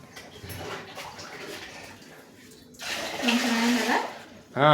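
Water splashes and sloshes in a container as sorghum grains are rinsed, with a louder pouring burst midway and soft voices underneath.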